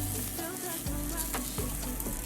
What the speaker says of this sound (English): Frying this bologna here.